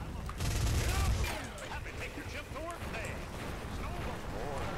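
A minigun fires in the zombie shooter Left 4 Dead, opening with a loud sustained burst, then continuing more faintly under game noise and swooping sound effects.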